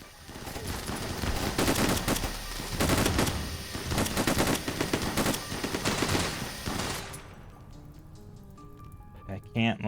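Rapid gunfire from mechs in a Rimworld battle, dense crackling bursts stacked close together for most of the stretch, then cutting off into quieter scattered game sounds near the end.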